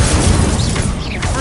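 In Hogwarts Legacy, the Incendio fire spell goes off as a close, heavy booming burst of flame. It rumbles and crackles throughout the brief moment.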